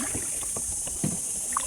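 A kayak paddling on water near Malvan, with soft rhythmic paddle splashes and dribbles under light wind noise, close by and fairly quiet.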